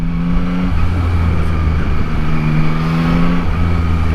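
Riding a Yamaha MT-09 motorcycle through heavy traffic: a loud, close, steady engine drone with a constant rush of road and wind noise, and the pitch shifting slightly a couple of times.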